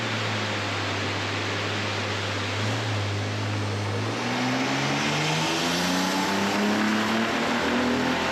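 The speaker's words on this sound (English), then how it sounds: "Okay, so we have a cylinder 3 misfire." A built BMW E90 with an N54 engine runs on a dyno with a cylinder 3 misfire, a loud, rough exhaust roar whose engine note climbs steadily as revs rise, with no voices.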